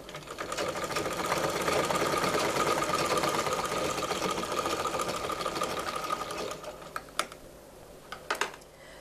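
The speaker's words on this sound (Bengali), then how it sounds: "সোজা এরকম ভাবে আমি সেলাইটা করে নিব।" Sewing machine stitching a straight seam on a six-panel petticoat, a fast, even mechanical whir running close and steady for most of the clip before stopping, followed by a few clicks.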